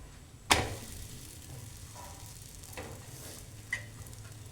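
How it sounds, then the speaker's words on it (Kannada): A chapati cooking with oil in a pan, one sharp clack as it lands or is turned, then a low, quiet sizzle with a couple of faint taps, close by. "ಮೇಲೆ ಒಂದು ಸ್ವಲ್ಪ ಈ ರೀತಿಯಾಗಿ ಎಣ್ಣೆ ಹಾಕ್ಕೊಂಡು ಚಪಾತಿನ ಬೇಯಿಸ್ಕೊಂಡ್ರೆ ಒಳ್ಳೆ ಸ್ಮೂತಾಗಿ ಮೆತ್ತಗೆ ಬರುತ್ತೆ"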